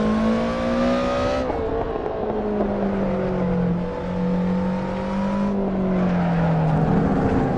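A race car engine in the Assetto Corsa driving game drones loud and steady from the in-car view, its pitch sagging as the car slows for a corner and then climbing again as it speeds up.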